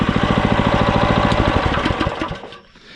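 Neva walk-behind tractor running with a rapid mechanical chatter before it is switched off, the engine note fading and dying away into near silence at the end.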